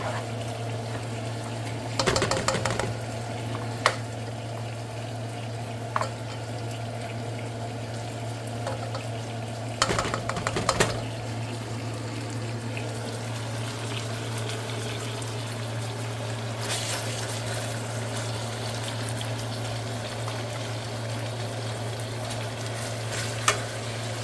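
Jambalaya sizzles steadily in a pan on the stove, a constant frying hiss under a low hum, broken by occasional scraping bursts as the spoon stirs and knocks against the pan.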